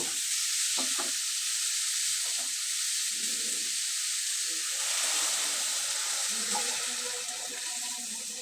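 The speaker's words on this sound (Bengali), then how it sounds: "আলুটা আমি ছোট ছোট করে কেটে নিলাম এবার খুব ভালোভাবে নেড়ে দিতে হবে" Small chopped potatoes frying in a pan while being stirred, a constant loud sizzle with intermittent scraping and rustling of the pieces being turned.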